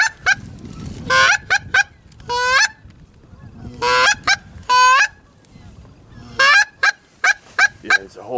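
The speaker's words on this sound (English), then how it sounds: "Oh, there's geese. See the geese?" A flock of geese honks outdoors during a duck hunt, with loud, close, repeated nasal calls in irregular bursts and short quiet gaps between them.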